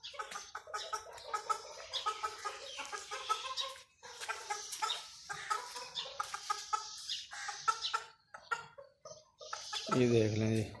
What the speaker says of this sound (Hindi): ये सारे मुर्गे इधर उधर भाग रहे